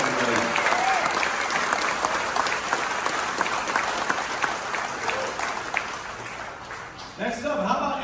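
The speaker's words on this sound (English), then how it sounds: "round of applause" A cruise ship audience on Harmony of the Seas applauds World War II veterans at a Veterans Day party, dense sustained clapping from a large crowd that fades briefly near the end and picks up again.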